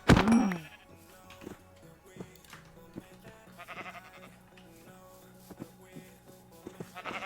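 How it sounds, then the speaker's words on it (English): Several sheep bleat in the Minecraft video game. A loud bleat comes first, then quieter scattered bleats and soft in-game thumps, with no one talking. "A lot of sheep."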